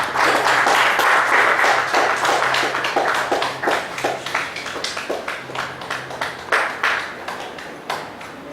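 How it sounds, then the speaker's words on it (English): An audience at a seminar on FATCA and CRS regulations gives the speaker a sustained round of applause, dense clapping that gradually thins into scattered individual claps toward the end. "Please give a big round of applause for today's speaker."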